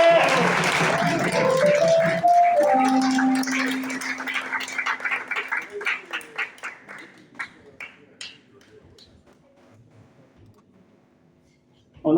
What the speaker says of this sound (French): merci de vous applaudir